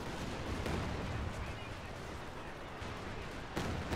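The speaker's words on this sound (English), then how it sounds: "I hear fire again." Dense gunfire and artillery from a Company of Heroes 2 battle, a steady loud barrage of overlapping shots and blasts with a sharp burst near the end.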